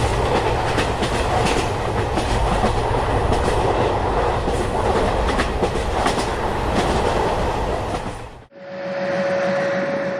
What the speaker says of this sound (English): During the rainy season, Indian trains turn into water transport.